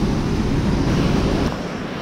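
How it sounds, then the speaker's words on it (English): Steady, dense rush of water at Bash Bish Falls in Mount Washington, Massachusetts, a broad continuous roar heard close and loud with no voices, easing slightly in the last half second. "probably one of the best waterfalls that I've checked out so far"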